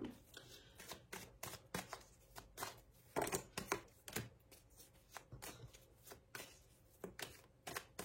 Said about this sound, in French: j'ai envie de vous mettre 2-3 cartes de tarot dessus